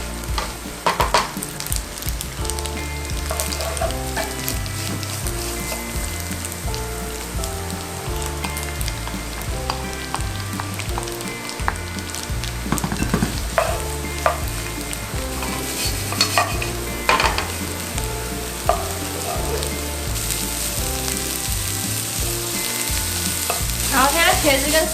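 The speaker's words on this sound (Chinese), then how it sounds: "我们就把老姜、茄子跟四季豆也放下去" Ginger, eggplant and green beans stir-fried in a pan, with a steady sizzle and repeated spatula scraping over a continuous rhythmic music bed.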